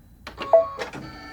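A sewing machine's built-in needle threader is pressed during quilt-block stitching, giving a few short, quiet mechanical clicks with one sharper clunk near the middle, close by, with no talk.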